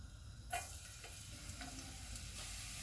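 Chopped garlic hits hot oil in a pan and settles into a steady, soft sizzle, with faint stirring clicks and scrapes close by and no voices.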